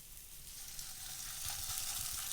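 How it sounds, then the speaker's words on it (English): Steady, crackling sizzle of hash browns frying in hot oil, close up and continuous, growing slightly louder toward the end with no talking. "So you want that sizzling, it gives it a nice crust on the hash brown."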